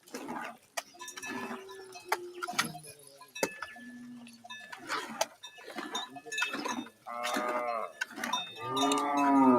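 Cattle mooing during the morning milking of cows at a Maasai homestead, several long low lowing calls near and far with a cowbell clanking, rising louder toward the end, no talk.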